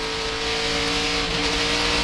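Several NASCAR race cars at full throttle around Homestead-Miami during the 2008 Ford 400, a dense, continuous, loud engine roar with no voices.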